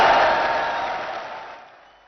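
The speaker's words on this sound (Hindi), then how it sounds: "जरा हाथ उठाकर तालियों की गूंज में बताइए" Large outdoor political rally crowd at Minar-e-Pakistan applauding and cheering for Imran Khan, a dense roar that starts loud and slowly fades over two seconds.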